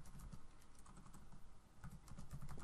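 Faint, quick tapping of keys on a computer keyboard while an SQL query is typed, a close, soft run of clicks with a short lull in the middle and no talking.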